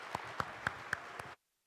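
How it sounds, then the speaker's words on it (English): About five evenly spaced, sharp hand claps ring out in a TEDx talk hall, each distinct and fairly close, before the sound cuts abruptly to silence. "So everyone give a round of applause for Carlos Vega."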